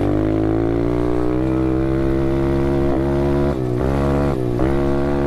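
A small SSR pit bike engine revving hard while riding along a ditch, loud and close, holding a high steady buzz with a few quick throttle dips and recoveries near the end.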